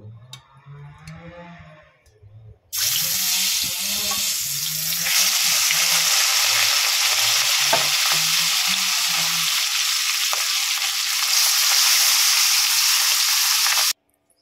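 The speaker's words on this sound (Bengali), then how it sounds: "দেখুন কড়াই তেল বসিয়ে দিয়েছি, এবারে মাছগুলো ভেজে নেব।" Fish pieces go into hot oil in a kadai for a Bengali fish curry: after a quiet, soft opening, a loud, dense sizzle bursts in and holds steady near the mic until it cuts off abruptly.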